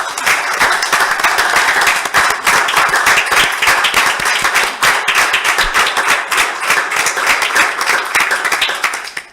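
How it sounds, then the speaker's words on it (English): Dense, sustained applause from an audience at a town hall meeting in Sewall's Point, loud and steady with many overlapping claps throughout, without talk. "Let's give a round of applause for Dan Hudson."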